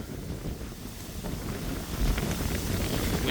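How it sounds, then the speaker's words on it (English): Steady wind buffets the microphone with a low, continuous rumble, gusting a little stronger toward the end, with no voices. "Windy again"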